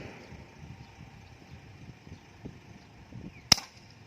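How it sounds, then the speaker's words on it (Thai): A single sharp crack from a CO2 blank-firing revolver shot at a target rings out near the end, close and loud after quiet outdoor background hiss and faint rumble. "ว่าเราจะยิงแล้วมันจะเป็นยังไงนะครับ เรามาลองดูกันเลยนะครับ กับ CO2 เบอร์หนึ่งนะครับ"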